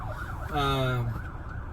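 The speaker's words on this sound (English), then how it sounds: "he didn't turn his sirens on until he was right behind me" A police siren wails in a short, loud burst directly behind a car, rising and sweeping for about half a second before cutting back to road noise.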